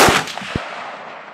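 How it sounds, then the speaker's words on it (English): A .30-06 rifle fires a single shot at an outdoor target range, a sharp, loud crack at the start followed by a fading echo that trails off. "All right, first shot here."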